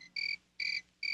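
Crickets chirping as a sound effect: three bright, regular trilled chirps with short pauses between them, clear and alone.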